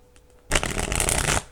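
Tarot cards handled and riffled in a single brisk shuffle, a dense close burst of papery flapping lasting about a second after a brief quiet moment.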